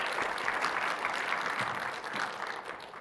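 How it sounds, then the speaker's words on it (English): A conference audience claps for a speaker after a tech session, the applause dense and continuous, then tapering off slightly toward the end. "Big round of applause,"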